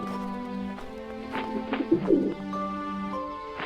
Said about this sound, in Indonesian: Wah, merpati pos.